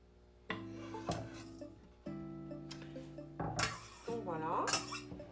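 Sun-dried tomatoes going into a mixing bowl while making legume and grain balls: clinks and scraping of a utensil against the bowl, with a few louder knocks, under a steady low hum and occasional voices.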